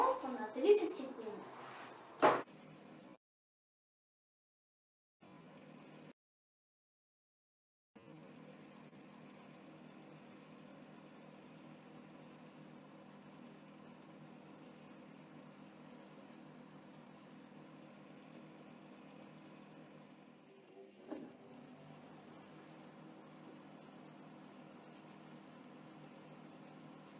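A microwave oven hums low and steady while it heats a light bulb submerged in a glass of water, with a brief crackle late in the run and some cuts to silence near the start.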